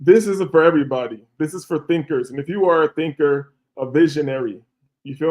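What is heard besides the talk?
No distinct noise like a dog, phone or traffic.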